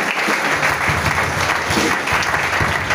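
A church congregation bursts into loud, sustained applause, a dense wash of clapping hands that fills the room steadily from start to finish, with a few scattered voices mixed in.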